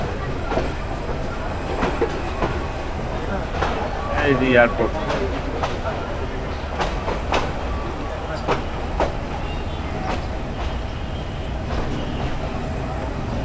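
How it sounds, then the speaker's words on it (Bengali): A connecting train runs from Dhaka's Airport railway station to Kamalapur, heard from inside as a steady rumbling roll with rhythmic wheel clacks and knocks, while a passenger talks over it. "নড়াইলে যাওয়ার জন্য এটি আমাদের কানেক্টিং ট্রেন, যেটি দিয়ে আমরা এই ঢাকার বিমানবন্দর রেলওয়ে স্টেশন থেকে যাচ্ছি কমলাপুর রেলওয়ে স্টেশন পর্যন্ত।"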